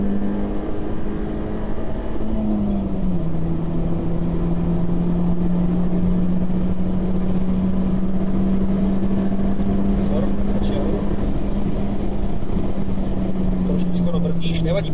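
Ford C-Max race car lapping the Slovakiaring circuit, its engine droning steadily from inside the cabin with pitch shifting as it brakes and accelerates, while a coach talks throughout.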